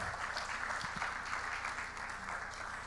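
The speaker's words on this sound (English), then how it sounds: "Please a round of applause for Maokwe." An audience at a journalism conference panel session gives a steady round of applause for the moderator. The clapping is moderately loud and even throughout, with no voices above it.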